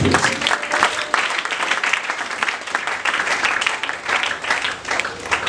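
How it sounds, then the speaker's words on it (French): A church congregation applauds loudly and steadily throughout, a dense wash of clapping and cheering voices that holds strong from start to finish. "Est-ce qu'on peut acclamer très fort?"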